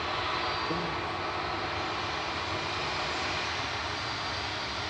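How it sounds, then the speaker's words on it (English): A British Airways Airbus A320 shuttle departing Manchester Airport for London Heathrow, a constant broadband jet engine roar at moderate distance, steady throughout with no voices. "Taking the British Airways shuttle with flight 1371. It's an A320 Classic EUIC."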